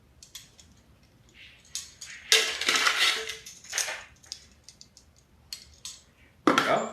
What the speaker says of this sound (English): The sugar actually helps it kind of whisk a little easier too.